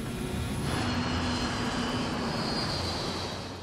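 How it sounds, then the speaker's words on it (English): A jet airliner passes overhead with a loud, steady broadband roar and a faint high whine, holding constant before easing slightly at the end. "The sound at first was just a normal airplane flying above."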